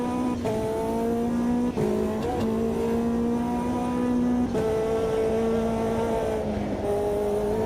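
Race car tyres slithering on all four wheels in a sim racing game, a steady engine drone with sliding tyre squeal that rises and falls across the whole stretch, loud and continuous with no talking.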